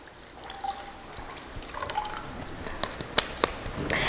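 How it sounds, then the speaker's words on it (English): Water pours and trickles into a cup set inside a bowl, light splashing and drips close by, building toward a few sharper clicks near the end, with no talk. "First, you have to put your water in as kind of like the foundation."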